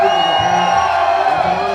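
A large crowd at a UFC 196 press conference for Conor McGregor versus Nate Diaz cheers and whoops in a loud, steady roar that fills the room without pause.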